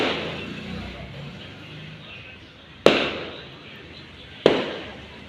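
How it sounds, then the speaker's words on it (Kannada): Two sharp firecracker bangs go off outdoors at night during a celebration, each loud report followed by a fading rumble over a quieter background. "ನೋಡಿ ಪಟಾಕಿ ಹೊಡಿತಾರಲ್ಲಿ,"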